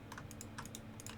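Quick, light clicking of a computer keyboard and mouse during modded Minecraft play, a steady patter of taps close by.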